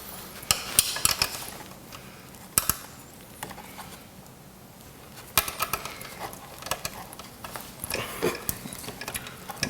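A ratcheting 8mm wrench works a bolt during a Harley-Davidson audio install, giving scattered metallic clicks and clinks with sharper clacks of tools set down, fairly close in a quiet space with no talk.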